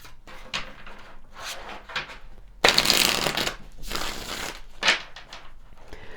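Tarot cards being shuffled by hand, repeated riffling and sliding bursts with one longer louder flurry, close and crisp with no talk.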